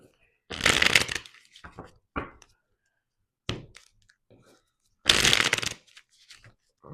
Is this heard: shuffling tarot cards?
yes